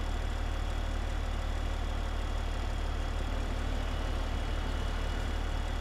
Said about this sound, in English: Looks like this tractor's struggling with two of them.